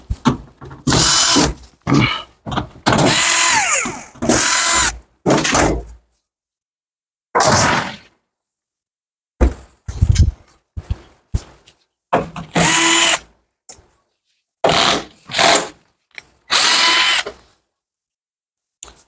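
A power drill unscrews parts from an automatic washing machine during a gearbox change, running in repeated short whirring bursts with ratcheting and clattering handling noises between them and brief pauses of quiet.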